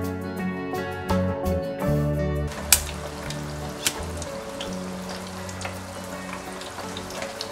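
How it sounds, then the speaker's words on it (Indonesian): 400 grams of peanuts fry in hot oil for a Bandung-style siomay recipe, giving a steady, close, crackling sizzle with a few sharper pops, alone without talk. "Setelah itu kita goreng kacang tanah"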